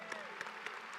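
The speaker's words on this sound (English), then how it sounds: "Give yourself a round of applause." Graduates applaud at a spring college commencement, brief scattered clapping with a few sharp claps standing out over a soft room wash.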